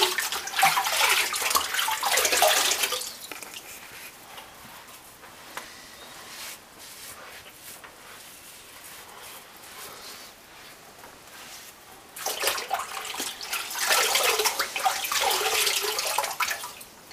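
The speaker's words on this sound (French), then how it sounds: "Rinçage à l'eau glacée." Cold tap water runs while a face is rinsed after a straight-razor shave, with two loud bursts of splashing and flowing water at the start and end and a quieter trickle in between.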